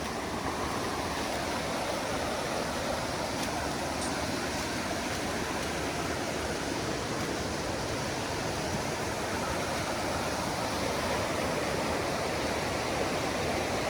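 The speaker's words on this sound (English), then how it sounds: "We found the river." The Savegre river rushes through Costa Rican forest, a loud, broad, continuous roar of flowing water, unbroken throughout.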